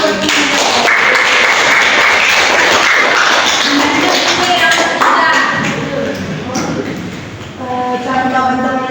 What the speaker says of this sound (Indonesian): Beri tepuk tangan dulu buat ini.